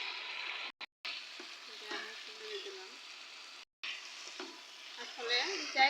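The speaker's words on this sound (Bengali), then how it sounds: "আমার মাংসগুলো প্রায় কষানো হয়ে গেছে।" Chicken sizzling as it is sautéed and reduced in a pan, a steady broadband fry with a few brief dropouts and light clinks of stirring, fairly close, no talking.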